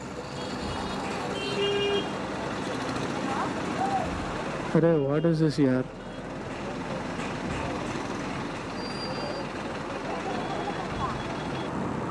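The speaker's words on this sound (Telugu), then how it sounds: "లెఫ్ట్కి వెళ్ళే వాళ్ళ వల్ల ట్రాఫిక్ జామ్ అయింది." A road traffic jam with a dense steady rumble of cars, buses and trucks, a loud horn blast partway through and fainter honks around it, as someone talks over the noise.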